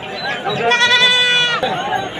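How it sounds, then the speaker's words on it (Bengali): Goats bleat loudly and close by at a traditional livestock market, one long wavering bleat over crowd chatter and talking. "এই যে দেখেন, অনেক সুন্দর ছাগলগুলো।"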